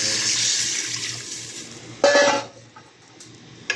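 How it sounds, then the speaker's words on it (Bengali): Water is poured into a simmering fish and ash gourd curry, a steady hiss that swells into a brief louder splash before fading, followed by a small clink. "পানি যতটুকু প্রয়োজন আমার ঝোলের দরকার ততটুকু পরিমাণ দিয়ে দেবো"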